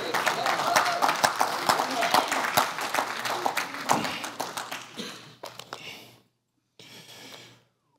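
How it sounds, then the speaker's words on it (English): A church congregation gives a sustained hand clap of praise during a service, with dense, lively applause that thins into scattered claps, briefly stops, then swells again near the end. "Can we give God a hand clap of praise?"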